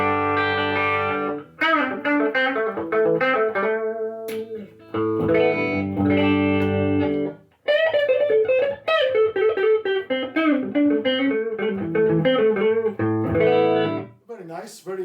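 Electric guitar played through the clean channel of a Marshall SC20h amp head, ringing chords and melodic lines in several phrases separated by short pauses, loud and clear.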